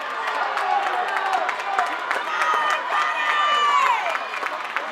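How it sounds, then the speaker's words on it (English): A crowd cheers and shouts at an indoor swimming championship, with whistles and high voices rising over constant echoing noise in the reverberant pool hall. "Hear the crowd"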